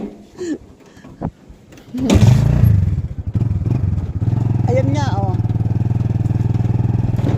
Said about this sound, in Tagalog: Pagtunog ng motor, takbo yun.